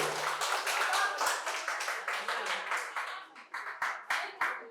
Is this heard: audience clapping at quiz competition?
yes